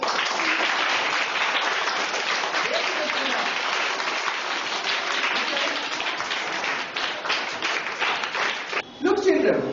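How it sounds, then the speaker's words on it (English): Children in a classroom clap together in a steady, dense burst of applause lasting close to ten seconds, fairly loud and near, with voices mixed in and a brief break near the end. "Please clap for Chirag."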